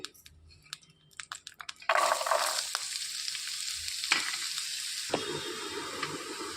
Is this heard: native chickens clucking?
no